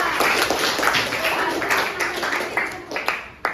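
Classroom applause for a student, a burst of clapping from the class heard alongside talking.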